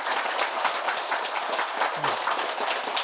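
Congregation at a Buddhist temple dharma talk clapping loudly together, a dense steady wash of applause filling the room throughout with no talk over it.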